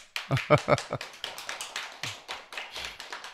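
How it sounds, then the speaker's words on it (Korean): Scattered clapping from a small audience at a Sunday dharma service in a temple, a few sharp claps at first, then a run of irregular, lighter claps in a quiet room. "박수 칠라면 쳐보세요"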